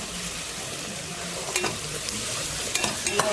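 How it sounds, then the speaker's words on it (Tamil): Onions sauté in a pan with a continuous close sizzle, and a spoon scrapes and taps against the pan now and then, clustered toward the end. "நல்லா நல்லா வெங்காயம் வதங்கிச்சு"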